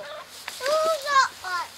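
Chickens cluck and squawk in a few short bursts nearby, with warbling, rising calls spaced through a couple of seconds.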